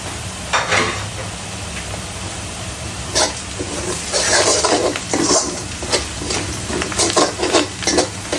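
Whole spices (bay leaf, cardamom, cinnamon and cloves) are stirred and fried in a pan for a Bengali beef curry, giving a steady sizzle with scattered bursts of stirring and scraping and no talk.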